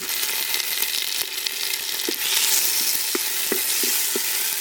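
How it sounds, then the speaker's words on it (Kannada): Chopped tomato sizzling in hot oil with fried onion in a pan at a village cooking spot, a steady loud crackle with a few light spoon taps and scrapes near the end. "ಟೊಮೆಟೊ ಕೂಡ ಸ್ವಲ್ಪ ಫ್ರೈ ಆಗಬೇಕು"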